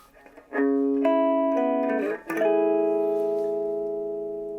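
Electric guitar played through a Marshall micro amp, a few sustained chords that ring out loud and close, then decay slowly with a brief break between strums.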